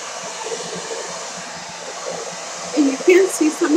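Hair dryer blowing a steady, close whoosh over a wet tissue paper butterfly collage, with the airflow shifting and fluttering louder toward the end.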